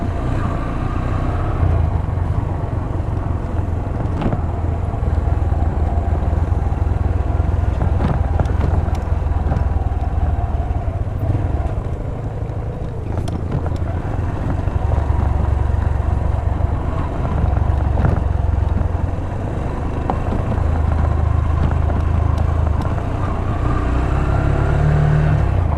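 A motorcycle rides along a fine-dirt desert track, its engine droning steadily and loudly with low rumble and wind buffeting throughout, with slight rises and dips in throttle.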